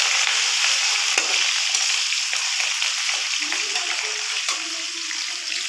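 Green chillies frying in hot oil for tomato chutney, a steady close sizzle and crackle that continues throughout without a break.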